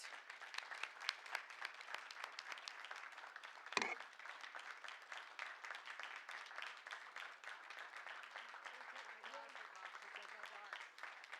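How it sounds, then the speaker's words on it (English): A board meeting audience gives a sustained round of applause: dense, even clapping from a group that runs throughout, heard from a distance, with one sharp knock early on. "Let's give a round of applause to this dynamic community and public servant."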